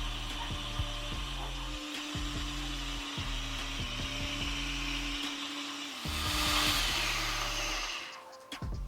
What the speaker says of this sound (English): Now blend that until it's extra creamy.